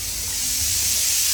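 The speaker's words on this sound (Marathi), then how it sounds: "कुकर लावलेला आहे" A pressure cooker of dal and rice lets off steam in a steady, loud, unbroken hiss throughout the short stretch.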